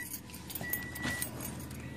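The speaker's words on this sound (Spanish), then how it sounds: "La llave." Car keys jangling close by in short metallic bursts over a few seconds, faint and quiet, with a thin tone sounding briefly in the background.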